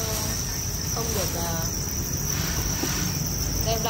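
Field crickets kept in a rearing setup chirp in a steady, continuous high trill alongside a low background hum, with a faint voice in the background.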